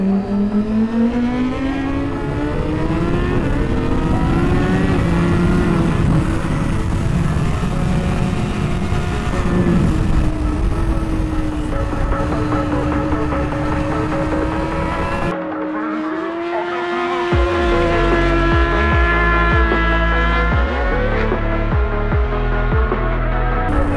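A racing motorcycle with an auto-blipper howls around the Most circuit, engine pitch climbing and falling through gear changes, with a sharp drop in tone as it shifts down, loud and continuous from an on-bike position.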